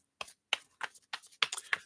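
Tarot cards being shuffled at a table, giving six short crisp riffling bursts spaced about a third of a second apart, close and fairly quiet with no talking.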